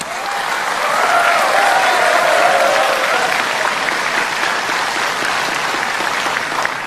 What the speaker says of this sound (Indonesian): Silahkan tepuk tangan.